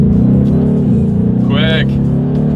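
A 2023 Ford Mustang GT accelerating hard from a standstill as the driver paddle-shifts through the gears, a loud, steady engine roar close by with a rising whine partway through and a voice over it.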